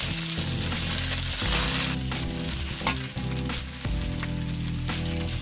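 Jute greens are tipped into a pan of fried onions and sizzle steadily and loudly for several seconds, with a constant crackling hiss over a low humming background.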